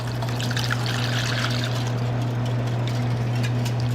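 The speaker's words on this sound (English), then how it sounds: "Add the milk." Milk pours into whisked eggs for a fall apple batter, a close, steady splashing trickle over a low constant hum, lasting the whole few seconds without speech.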